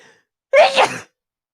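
A single loud, manly sneeze bursts out close by after a moment of silence, ending abruptly with no talk around it.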